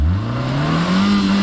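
Rear-wheel-drive car stuck in snow, engine revving hard up close, its pitch climbing steadily in one continuous strained roar.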